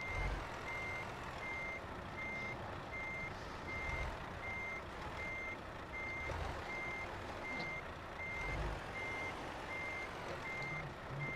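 A truck reverses in Euro Truck Simulator 2, with its backup alarm beeping at a steady, even rhythm over a constant low engine rumble.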